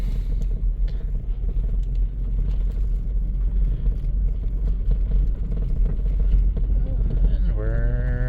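A 1997 Dodge Caravan LE backs up slowly with a low, steady engine rumble under a voice, and a brief rising whine enters near the end.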